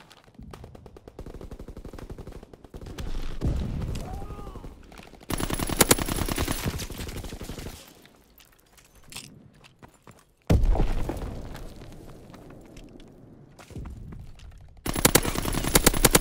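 Bursts of rapid gunfire from aircraft strafing a target in a World War II shooter game, loud and close, arriving in several long rattling volleys separated by quieter stretches with distant battle noise.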